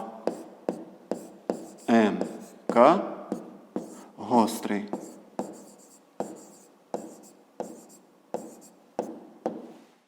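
A pen writes a math answer on paper in a quiet room: close, crisp scratchy strokes in quick bursts with short pauses, a few longer scribbles in the middle, and no talk over them.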